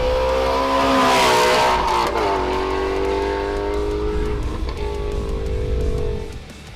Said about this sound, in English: here is a second-geared 80-mile-an-hour flyby